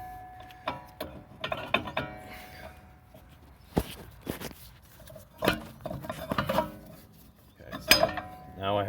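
Metal brake parts on the rear of a third-generation Ford Escape (2013-2019) clank and tap as the caliper bracket is fitted onto the rotor, with scattered sharp clicks and scrapes at close range and long quiet gaps between them.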